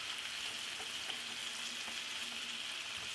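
A steak fries in a pan with a steady, dense sizzle and crackle, close and continuous, with no talking.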